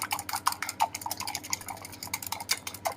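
A whisk beats eggs in a jug, giving quick light clinks and taps in an uneven rhythm, close by and fairly quiet.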